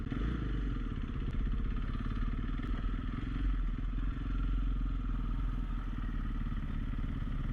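A dual sport motorcycle rides off-road near the California border at Tecate in Baja, Mexico, its engine droning steadily with a rapid, even putter and some rattling clatter from the bike, close and continuous throughout.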